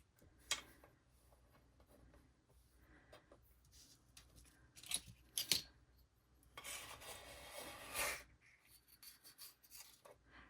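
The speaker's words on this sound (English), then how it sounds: "So let's just cut out our earrings." Polymer clay earrings being cut out: faint, close scraping and rasping blade strokes with a few sharper clicks and a longer rubbing stretch, in a quiet room with no talk.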